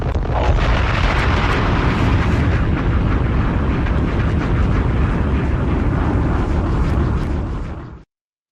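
A bomb explosion sound effect played over a sports talk livestream, a loud continuous roaring blast that rumbles for about eight seconds before cutting off abruptly, with no talk over it.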